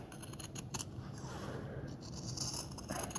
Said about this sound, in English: I actually want to cut around here